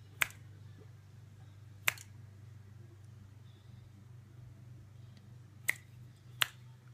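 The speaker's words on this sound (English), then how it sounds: "I hope you can hear my fingers snapping." Four sharp, isolated finger snaps spaced unevenly across a quiet stretch, the first two close together and the last two near the end, over a low steady hum.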